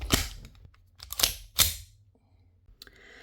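A 2011 Combat Master airsoft pistol being locked and loaded: three sharp, close metallic clacks of the slide and parts, then quieter handling clicks and a soft rattle at the end.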